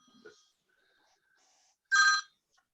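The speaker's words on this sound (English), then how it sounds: "Sorry, this was my phone." A mobile phone ringing during a lecture, one short bright ringtone burst after a quiet pause, with a faint murmur beforehand.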